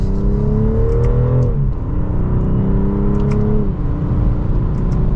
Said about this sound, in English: And in sport mode, second gear, here we go.